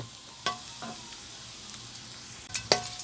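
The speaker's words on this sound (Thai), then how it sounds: "ผัดกระเทียมก่อนเนาะจ้ะเนาะ ผัดกระเทียม" Garlic stir-fried in a pan for a home-style stir-fry of gourd with Thai pork sausage: a soft sizzle runs under a few sharp spatula clinks and scrapes, close and fairly quiet.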